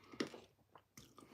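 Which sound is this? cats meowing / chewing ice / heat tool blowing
chewing ice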